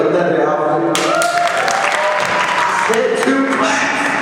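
Convention panel audience breaking into applause, a dense sustained wash of many hands clapping that starts about a second in and continues loudly throughout, with voices talking over it.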